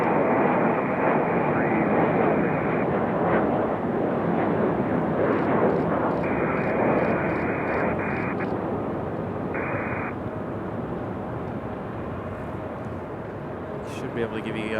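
A Southwest Boeing 737-700 departs Raleigh-Durham airport with a loud, steady jet roar that fades slowly. Radio chatter breaks in over it at times.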